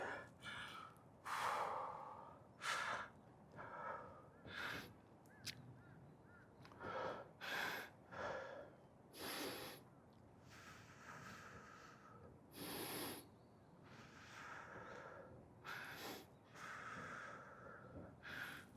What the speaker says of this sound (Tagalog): Hinihingal na ako guys.